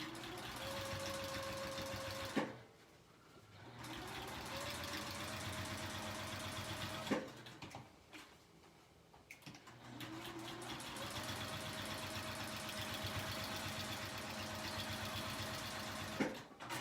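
A sewing machine top stitching a seam along a cork edge, its motor whirring steadily at close range and broken by two short pauses.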